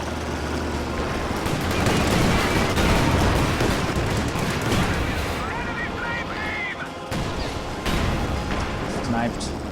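Pack howitzer and MG-34 machine-gun fire in a wartime strategy video game, dense overlapping shots and bursts rolling continuously under voices and game chatter.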